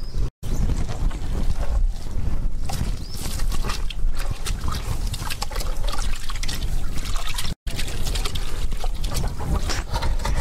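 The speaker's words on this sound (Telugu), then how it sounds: "ఈ ఆవు మూత్రం కూడా దీంట్లో కలుపుకోవాలి." Cow urine being poured into a large drum of water for a farm mixture, a loud close gushing trickle and splashing that runs almost continuously, broken by two very brief gaps.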